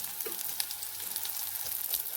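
Salted eggplant slices fry in hot oil with a steady, close crackling sizzle and small pops, with no voices.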